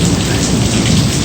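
Heavy rain pours in a Panama thunderstorm, a dense, loud, steady roar of drops hitting surfaces with low thunder rumble underneath, no voices.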